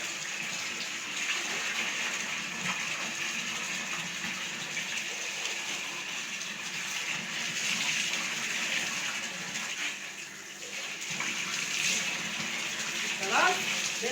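Water runs and gushes steadily from a bathroom tap while curtains are washed, a continuous close splashing rush that swells and dips slightly throughout.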